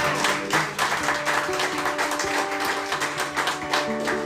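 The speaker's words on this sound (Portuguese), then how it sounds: "Você pode aplaudir ao Senhor com o seu melhor." A church congregation applauds during a service, with many hands clapping in a dense, moderately loud patter. Sustained tones, likely from musical instruments, play beneath the clapping throughout.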